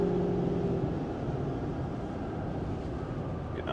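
A Ford F-250 Super Duty pickup in derate, its engine held at full throttle, gives a steady low rumbling drone inside the cab, constant and fairly loud for a few seconds with no talk.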